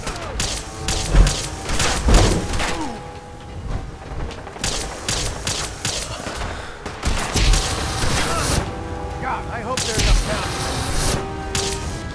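Gunfire in Fallout 4 rattles in repeated bursts with thuds and mechanical clanks, loud and sustained over several seconds.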